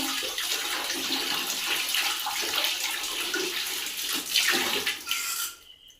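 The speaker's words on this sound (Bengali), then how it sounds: "আমাদের গাছটা ধুয়ে নিচ্ছে" Tap water runs steadily as an aquarium plant is rinsed under it, giving a close continuous splashing rush that briefly surges near the end before cutting off abruptly.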